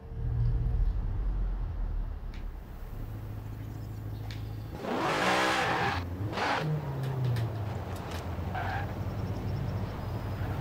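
The engine of a fully customized 2019 Zenvo TSR-S in Forza Horizon 4 roars and revs through gear changes, loud and steady, with a surging burst of acceleration midway and a brief tire squeal.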